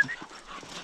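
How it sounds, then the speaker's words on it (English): Dogs pant in quick, soft breaths with faint whimpering, close by and fairly quiet in a brief burst. "Good dogs. Good girl, Dilly."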